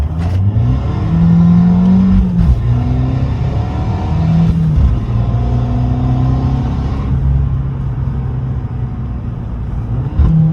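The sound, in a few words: Fiat 500 Abarth Stage 1 engine revving high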